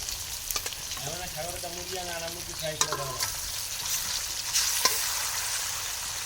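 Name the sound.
spices sizzling while stir-frying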